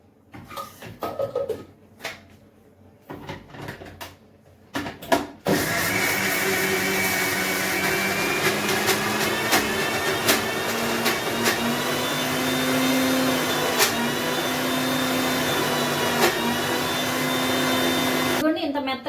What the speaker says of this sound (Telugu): ఇప్పుడు ఈ ఉలవలను అయితే మిక్సీలో అయితే వేసుకున్నాము